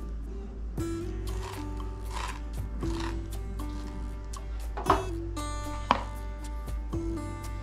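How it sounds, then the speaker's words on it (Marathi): A knife cuts through two washed mangoes on a board, making about half a dozen distinct chopping thuds at uneven intervals over a steady background hum, close up and with no talking. "आता याला आपण कट करून घेऊया।"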